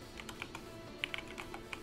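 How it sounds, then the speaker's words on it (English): Quick, light clicks of a computer keyboard being typed on come in a short irregular burst, close but quiet, with no voices over them. "And you type in cleaning."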